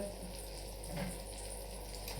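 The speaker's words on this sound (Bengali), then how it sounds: "দেখেন তেলের মধ্যে সুন্দর ফুলে উঠছে" Food frying in hot oil as it puffs up, giving a quiet, steady sizzle that runs evenly throughout with no voices.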